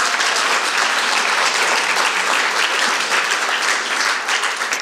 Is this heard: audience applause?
yes